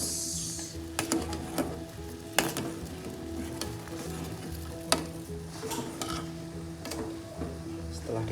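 A pot of herbal cough and cold remedy simmering on a stove while being stirred continuously, with soft scraping and bubbling over a steady low hum and scattered sharp clicks of the spoon against the pot.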